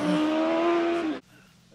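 A GSX-R racing sidecar roars past loudly at a rally on gravel, engine note rising with a sharp close pass, then cutting off abruptly to quiet with faint background noise.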